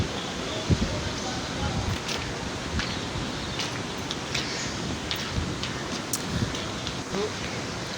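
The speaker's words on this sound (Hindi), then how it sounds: "छत पर बहुत अच्छी हवा चल रही थी" Wind sweeping across a house rooftop on a mild Eid day, a steady broadband rush with gusty rustling and a few faint distant sounds throughout.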